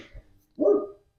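A single short dog bark sounds nearby in an urban backyard garden after a hard fall frost, preceded by a faint brief scuffle.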